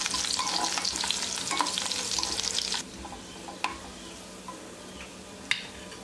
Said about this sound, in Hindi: अब इस कुटी हुई लहसुन को हम कढ़ाई में डाल लेते हैं।